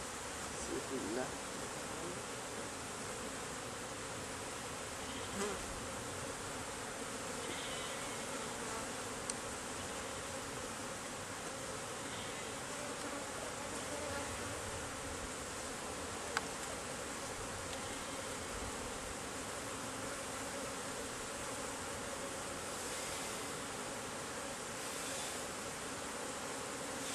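Honeybees swarm around a backyard beehive, their dense, even buzzing filling the air continuously at close range, with faint occasional clicks and no clear speech.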